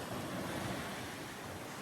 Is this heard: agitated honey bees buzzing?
no